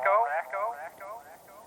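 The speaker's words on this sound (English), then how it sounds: "LRM phone echo." A voice passes through a thin, band-limited phone-like filter from a TC Helicon VoiceLive Play effects unit, its repeats echoing and fading away in a quick trailing series.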